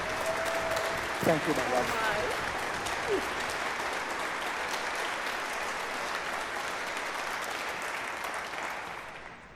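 An audience at a talk applauds loudly and steadily, a dense wash of clapping that lasts the whole stretch and fades slightly at the end, while a speaker's voice is heard briefly over it near the start.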